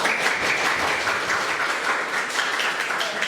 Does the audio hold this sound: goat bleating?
no